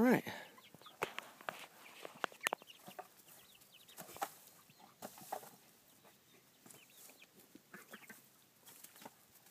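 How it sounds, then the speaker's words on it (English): A rooster and hens cluck and call on a farm alongside ducks, scattered close and sometimes loud, with people talking quietly between the calls. "There's Mr. Rooster."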